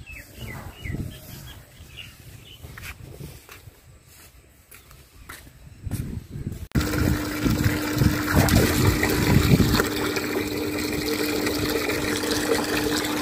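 Water pours steadily into buckets outdoors in a village yard, a loud continuous gush after a quieter start, with birds chirping in the background and no talk.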